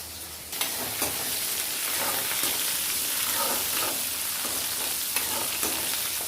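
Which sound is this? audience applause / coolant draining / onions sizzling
onions sizzling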